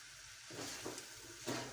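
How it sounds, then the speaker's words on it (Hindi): Chickpeas frying in a pan with spices for chana pulao: a steady, faint sizzle and hiss with soft stirring scrapes, close by, no voices. "इसको तकरीबन 2 से 3 मिनट हम मज़ीद भूनेंगे।"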